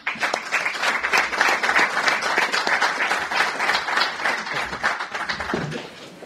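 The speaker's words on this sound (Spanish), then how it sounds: "un aplauso para Teresa Álvarez" An audience at a school sports symposium in Valladolid applauds a team captain, a dense, steady round of clapping that carries on evenly for several seconds without voices.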